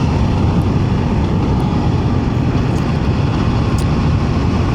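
An Aprilia Tuono 1100 Factory motorcycle with its 1099cc remapped engine is ridden at a steady pace, a loud, constant low rumble mixed with wind roar and no break or speech.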